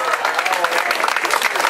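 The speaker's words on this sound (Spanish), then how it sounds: "Un aplauso fuerte para ella." An audience at a municipal road-paving event gives dense, sustained applause that stays fairly loud throughout, with a voice faintly present underneath.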